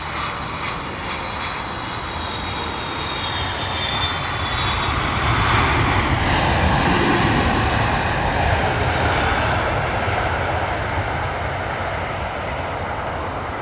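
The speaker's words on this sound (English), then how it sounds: "Beautiful arrival there from the Air Canada 777" An Air Canada Boeing 777 arriving at London Heathrow, a long, steady roar of jet engines that swells toward the middle and then eases slightly, heard alone at a distance.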